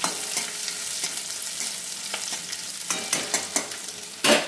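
A small amount of onion fries in a pan, a steady sizzle with the scrape and clatter of stirring, sharp clicks and one louder clank near the end, no talking.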